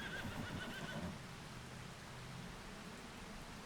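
A horse in Farming Simulator 25 gives a faint, brief whinny early on over steady hissing rain, and then only the rain noise continues.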